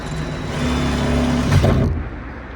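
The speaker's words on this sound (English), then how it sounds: "we switch that drill bit out for a 6mm, which is the size of the jigsaw blade in width" A drill fitted with a 6mm bit whirs loudly and steadily as it bores through metal, building briefly before cutting off after about two seconds.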